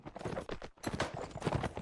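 Horse hooves clip-clop in a multiplayer video game match as a player climbs onto a horse, a quick run of close, rhythmic thuds with a brief gap partway through.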